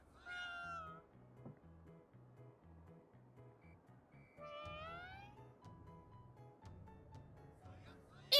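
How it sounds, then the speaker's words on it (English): Cat meowing in Ghostwire: Tokyo, a series of clear, drawn-out meows with rising and falling pitch heard near and loud over a steady looping game music bed, with a pause between bursts. "Look at the cat!"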